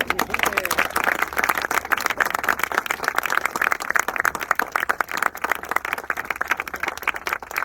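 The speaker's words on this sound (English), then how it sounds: "let's have a round of applause for that" A crowd claps steadily for the full stretch at an outdoor ribbon-cutting ceremony for an accessible trail, dense and continuous, with voices mixed into the applause.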